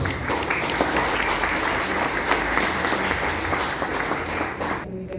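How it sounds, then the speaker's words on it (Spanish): Sustained audience applause after a journalist's talk, a dense, even wash of clapping from a room full of people that holds steady and ends abruptly near the close. "Ahora sí, aplausos."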